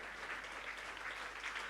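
Audience applause at an International Women's Day celebration ceremony, a steady dense wash of clapping from a crowd throughout, moderately distant and even in level.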